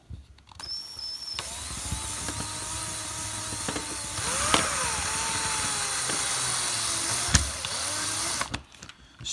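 A small power screwdriver drives tiny screws into electronics mountings, giving a steady whirring drone for most of the stretch with brief pitch changes as each screw seats, then cutting off near the end.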